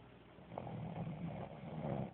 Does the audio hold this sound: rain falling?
no